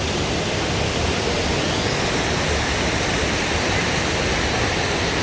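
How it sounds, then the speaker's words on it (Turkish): Düden waterfall in Turkey roaring steadily and loudly up close, a dense unbroken rush of falling water filling the whole scene without pause. "Bak oradaki gelen suyun hızına bakın. Görüyor musunuz suyun hızını?"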